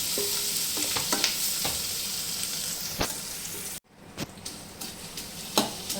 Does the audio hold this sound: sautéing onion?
yes